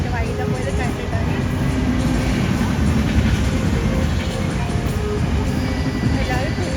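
Train rumbling past near a house, a loud continuous roar with clattering wheels throughout while people talk over it.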